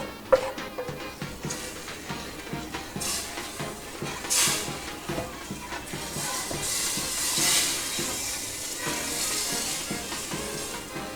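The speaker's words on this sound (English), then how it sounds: "You should hear a sizzle." Loud sizzling as food hits a hot pot of beans, settling into a steady hiss with occasional stirring scrapes.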